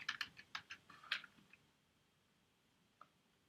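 Computer keyboard typing while entering form code: a quick burst of sharp, close keystroke clicks in the first second and a half, then quiet with one lone tap near the end.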